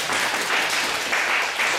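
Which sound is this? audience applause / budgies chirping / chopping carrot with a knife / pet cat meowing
audience applause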